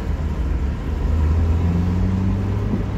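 Daihatsu Copen with a 1.3 engine idling at a traffic light, a steady low rumbling drone with a faint hum that swells slightly midway, close and continuous.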